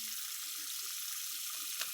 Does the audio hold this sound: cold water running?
yes